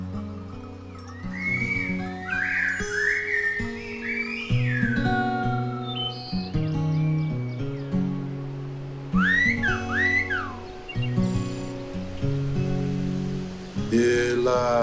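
A person whistles Silbo, the whistled language, in sliding, rising and falling phrases with pauses between them, clear and close over a steady musical backing.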